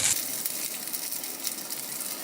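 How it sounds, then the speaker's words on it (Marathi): Cooked rice tipped into a hot pan for a combo pulao sizzles steadily and close at hand over low gas, a dense frying hiss that runs unbroken for about two seconds. "हा जो भात शिजवून घेतला होता तो घालायचा आहे"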